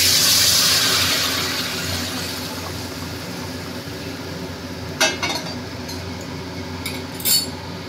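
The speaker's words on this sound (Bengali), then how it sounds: "এবার আমি গরম জলটা দিয়ে দিচ্ছি" Hot water rushes into a pan of fish curry with a loud, hissing surge that fades over a couple of seconds, followed by a quiet simmer and a few sharp metallic clinks of a utensil against the pan.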